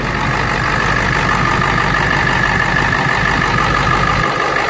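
A Ford F250 7.3 Powerstroke diesel with over 600,000 miles and a big turbo, running up close with one injector suspected of knocking: a loud, steady, unbroken engine drone.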